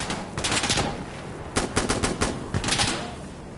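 Automatic gunfire in a video game rattles out in rapid bursts aimed at a console, loud and close, with several separate volleys and short gaps between them.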